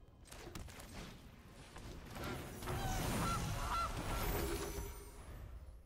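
A goose honk plays as the Gilded Goose card is cast in the MTG Arena digital card game, a few nasal honks and squawks over soft game effects, moderately loud and alone.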